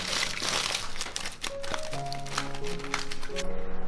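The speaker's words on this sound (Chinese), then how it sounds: "然后把锡纸包起来" Aluminium foil being folded and wrapped around a baking tray of marinated sea snails, close crinkling and crackling that continues in busy bursts, with no talking.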